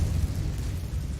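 A fiery Incendio spell goes off in Hogwarts Legacy as a dense, roaring whoosh of flame with a heavy low rumble. It is loud and continuous for about a second.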